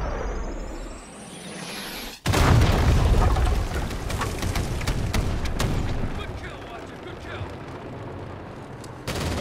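Artillery strikes slam down on troops north of a bridge in Modern Warfare 2019: a whistling approach, then a sudden massive blast with a long rumbling tail, scattered gunfire and a second impact near the end.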